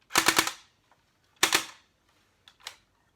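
An airsoft AK-47 fires short full-auto bursts, a rapid rattle of several shots, then a second quick burst and two faint clicks, loud and close with silence between.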